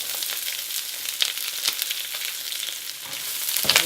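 Chopped garlic, ginger and chilies sizzle and crackle steadily in a hot stir-fry pan for devilled chicken, with a few louder spits and stirring scrapes, close and continuous without talk.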